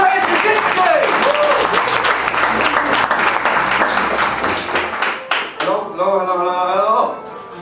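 Audience at a comedy club bursts into loud, dense clapping and cheering to welcome the first act of the evening, fading near the end as a voice begins speaking over it.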